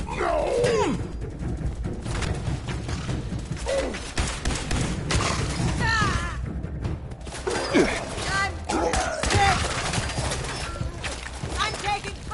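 Rapid bursts of gunfire in a Fallout 76 battle, thuds and impacts crowding together over steady background noise, with voices shouting through the whole firefight.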